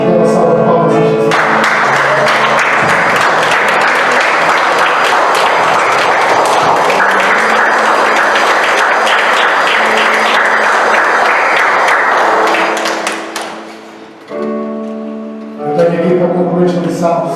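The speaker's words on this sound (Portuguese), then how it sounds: "Dê uma salva de palmas a Jesus" A loud, sustained round of applause from a church congregation, rising after a brief stretch of voice and music and fading near the end before voices and music return.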